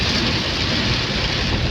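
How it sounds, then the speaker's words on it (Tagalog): Heavy afternoon rain pours down in a dense, constant hiss, loud and steady throughout with no break, heard while driving up a zigzag road in the Philippines. "Grabeng ulan."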